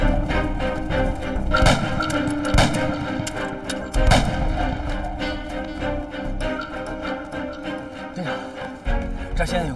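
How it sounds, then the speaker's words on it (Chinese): A war film battle scene is filled with gunfire: dense bursts of shots and heavy booms under a continuous loud mix of effects and music, with voices in the background. "枪声越来越近。"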